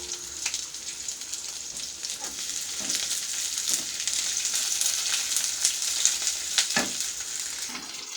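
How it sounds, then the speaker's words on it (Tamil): Ridge gourd peel fries in hot oil, a constant close sizzle with crackling pops and occasional stirring scrapes, no speech. "ஊற்றிக்கிட்டு இப்போ இந்த பீக்கங்காய் தோலை இதில் கொட்டி வதக்கிக்கலாங்க."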